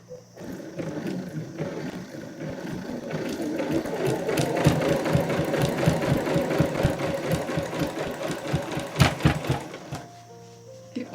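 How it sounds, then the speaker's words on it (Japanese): A sewing machine stitches along the thick edge of a fabric pouch, a fast, loud mechanical rattle that runs for several seconds before slowing and stopping near the end. "口布側に際を縫っていきます。"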